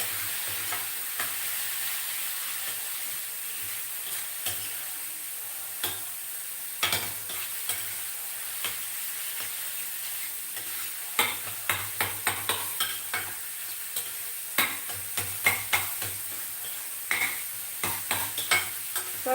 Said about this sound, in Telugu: ఇది బాగా వేయిపోవాలి మూత పెట్టకూడదు